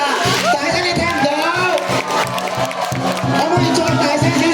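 Crowd at a traditional lion and qilin dance performance in Fung Yuen cheers and shouts loudly and continuously, a dense wall of close voices with whoops rising above the roar.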